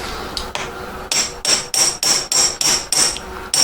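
Hammer tapping a handmade ring shank closed around a single diamond, a series of about nine sharp, ringing metallic taps at a quick, slightly uneven rhythm, close and loud.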